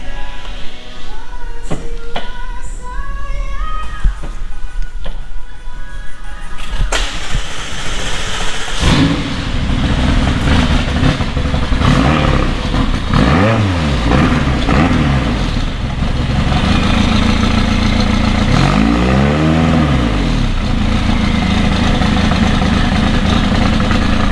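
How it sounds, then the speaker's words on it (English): A 2018 McLaren 570S engine runs rough at idle with a fault light on, its note uneven before revving up loudly in repeated bursts, close and steady throughout. "Of course, the engine light is on, and engine little bit working rough, right?"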